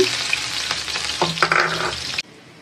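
Chopped onion and green chili hit a hot pan for macaroni, giving a loud, close, continuous sizzle with a few stirring scrapes before it cuts off abruptly near the end.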